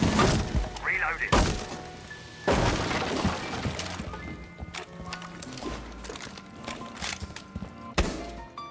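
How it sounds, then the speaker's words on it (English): Shotgun blasts in Rainbow Six Siege, several sharp loud booming cracks spaced irregularly across a tense in-game firefight, with players talking over the gunfire. "Oh, I heard shotgun."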